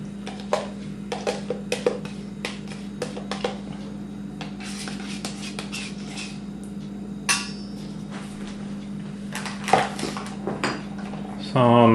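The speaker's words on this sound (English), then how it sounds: "I'm going to mix up the next ingredients that are going to be spread over the top of what's already in the crock pot" A pound of sour cream being mixed with salt and pepper in a bowl for a John Wayne casserole, utensil clinks and scrapes against the bowl in an irregular rhythm, close, with a steady hum underneath.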